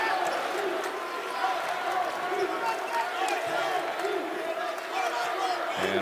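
A basketball arena crowd at the Atlantic Union Bank Center cheers in a loud, sustained roar during a men's college game, with a commentator talking over the din.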